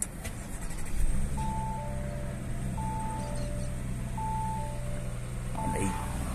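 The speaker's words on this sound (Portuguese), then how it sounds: "Vamos ligar, ó, o carro." A 2019/2020 Audi A6 3.0 TFSI quattro is started with keyless push-button ignition, its engine catching with a short rise and settling into a low, steady hum while repeated dashboard chime tones sound over it.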